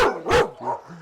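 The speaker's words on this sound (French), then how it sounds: "c'est un golden retriever" A golden retriever gives two or three sharp, close barks in quick succession at a dog boarding kennel, the last one a softer, whining yelp.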